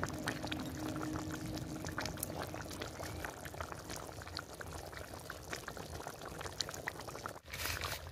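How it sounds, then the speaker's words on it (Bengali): Goat meat curry simmering uncovered on low heat, a faint steady bubbling and sputtering that continues throughout with a brief dip near the end, no voices. "তো আমি এই হালকা আঁচ রেখে আর 10 মিনিট ঢাকা না দিয়ে আর একটু ফুটিয়ে নেব।"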